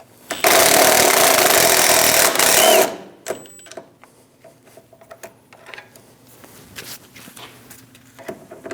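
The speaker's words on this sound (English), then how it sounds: "Using a 14mm wrench to hold the nut and a 14mm socket, we're going to loosen and remove the sway bar link." A 14mm wrench and socket loosen the sway bar link nut on a 2001-2006 Chevrolet Silverado 2500 HD. A loud burst of powered tool whirring lasts about two and a half seconds, then quieter clicks and handling noises follow.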